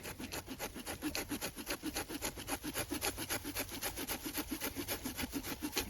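A hand saw cuts through a hazel branch in quick, even back-and-forth strokes, close and steady throughout.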